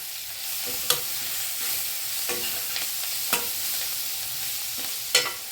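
Paneer cubes for chilli paneer fry in a pan with a steady, close sizzle, broken by a few sharp knocks and scrapes as the pieces are stirred.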